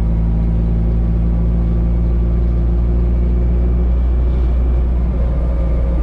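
A 1988 FSM 126p (Fiat 126p, 650E) driving on an open road, a loud, steady low engine drone filling the cabin, with a slight shift in tone near the end as it moves into fourth gear.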